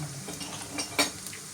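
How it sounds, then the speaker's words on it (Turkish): Onions sautéing in a pan give a low, steady sizzle, with a few soft utensil scrapes and one sharper clink near the end, close by and without talk. "Şimdi şunu şöyle soğanımı kavuracağım"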